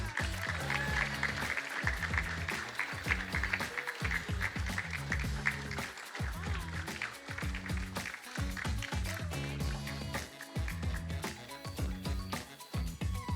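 A crowd at a grand final event keeps clapping as the judges exit, a soft, continuous spread of applause heard beneath a loud, rhythmic music track with a pulsing bass beat.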